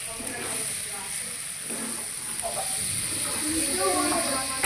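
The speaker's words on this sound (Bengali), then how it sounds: "একদম ফ্রেশ চিকেন ভালো করে নেড়ে চেড়ে ভালো করে কষিয়ে নেব।" Fresh chicken pieces sizzle steadily in a pan while being stirred and browned for dhaniya chicken, a continuous hissing fry with faint scraping beneath a voice.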